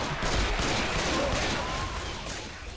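Gunfire in the video game Left 4 Dead, a dense continuous rattle of rapid shots with a steady roar and no clear gaps, loud and close throughout.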